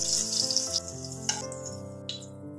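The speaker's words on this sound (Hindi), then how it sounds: "एक बाउल में पानी लिए हैं तो इसमें पनीर को छोड़ देंगे ताकि पनीर सॉफ्ट ही रहे।" Fried paneer pieces dropped into a bowl of water in a kitchen, a few soft splashes and a brief hiss over a steady background hum.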